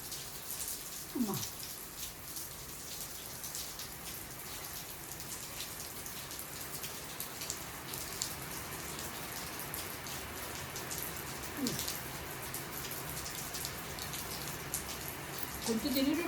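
Steady rain falls throughout, a dense hiss of drops striking surfaces at moderate level, with a few brief faint sounds rising above it.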